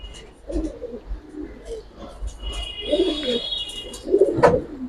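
Pet pigeons, including white birds and a pair for sale, coo in soft, throaty bursts close by, several calls in a row, one louder near the end, with faint background murmur.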